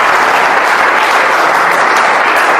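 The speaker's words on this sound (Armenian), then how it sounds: "ծափարենք Տիրոջը։" A church congregation applauding the Lord during a service, a loud, sustained roar of many hands clapping at once, steady throughout.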